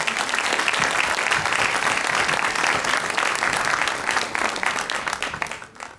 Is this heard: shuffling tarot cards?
no